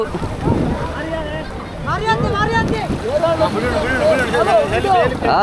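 Banana boat ride out at sea near Lakshadweep, with steady wind buffeting the microphone and rushing water throughout, while excited voices talk and shout over the noise.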